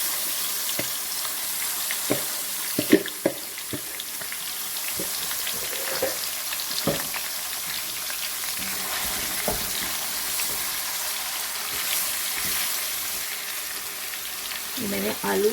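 Chicken pieces sizzling as they fry in a hot pot with green cardamom for Delhi-style chicken potato biryani, a steady hiss broken by repeated sharp knocks and clatters nearby.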